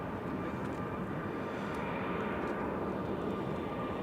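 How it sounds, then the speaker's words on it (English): A departing airliner at Manchester Airport gives a steady, broadband engine roar that holds loud and even throughout, without talk. "Very smooth departure."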